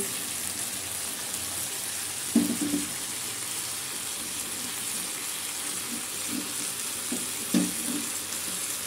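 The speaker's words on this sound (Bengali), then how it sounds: "এখন আমি গরম পানি দিয়ে দেব" Hot water goes into a pan of frying vegetable curry with pumpkin lentil dumplings, potato and eggplant, giving a steady sizzle and hiss with a couple of brief louder splashes of pouring and stirring.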